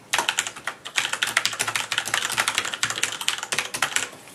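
Fast typing on a Corsair Vengeance K60 keyboard with Cherry MX Red switches, close and fairly loud, keystrokes clattering in quick uneven bursts without any voice.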